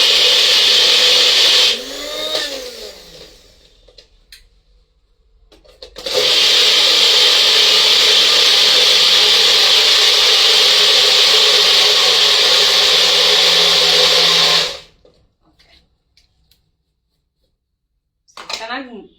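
A mixer grinder grinds paste with a loud, steady whirring roar. A short burst comes first, then after a pause a long continuous run of about nine seconds cuts off abruptly, with a voice briefly heard near the start.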